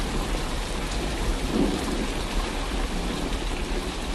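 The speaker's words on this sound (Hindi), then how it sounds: "कुछ ही देर में बारिश के साथ साथ ओले भी गिरने लगते हैं।" Heavy rain pours steadily with a low rumble of thunder throughout, a cartoon-style storm effect in which hail is said to fall alongside the downpour, dense and close with no voices.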